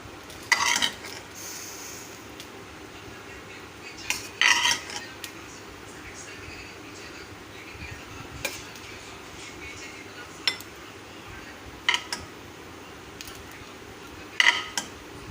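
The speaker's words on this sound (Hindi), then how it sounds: "अब हम इसको डिश आउट करते हैं।" Metal utensils scrape and clink against a pan as a hot khoya sweet made with real ghee is dished out, in several short bursts spread across a quiet kitchen background.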